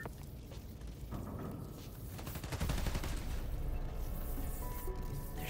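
Rapid automatic gunfire rattles on in Spider-Man Miles Morales, building into a sustained dense volley of fast repeated shots amid game ambience, with no talking.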